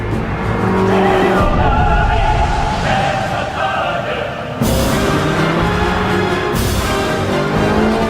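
Ferrari California sports car driven hard, its engine revving loud and close with abrupt gear changes and sharp surges of acceleration, tyres squealing between pulls.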